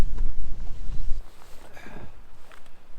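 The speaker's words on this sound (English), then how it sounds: "the wind's blowing in here" Strong wind gusts over Lake Lanier buffet the microphone in uneven low rushes, with faint water and boat-side knocks underneath, lasting a few seconds with no talking.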